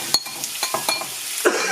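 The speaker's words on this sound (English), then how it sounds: "Give them a stir, make sure everything is coated" Mushrooms and onions being stirred as they sweat in a pan for burgers, giving soft scraping strokes and a faint sizzle at an irregular pace, with a few light clinks of a utensil.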